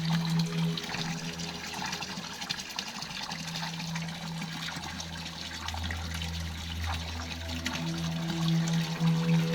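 Drinking water runs from a spot in a quiet Portuguese village, a steady trickle and splash heard nearby throughout with low background hum and no talk.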